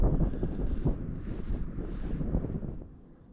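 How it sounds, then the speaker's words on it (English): Wind gusting along a frozen lake shore, a loud rumbling buffet across the microphone that holds steady for a few seconds before easing off, with no voices. "Wind is picking up down here along the shore"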